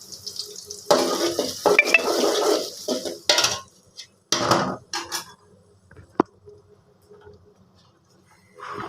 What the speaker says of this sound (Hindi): यहाँ पर प्याज ब्राउन हो रहे हैं